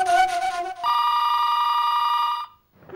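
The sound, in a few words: telephone ringing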